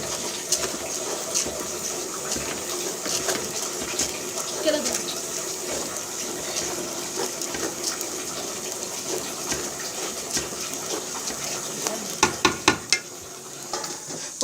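Rice frying in oil in a pot for koshari, stirred before lentils go in: a steady sizzling hiss with soft scraping, and a few sharp clicks of the spoon near the end.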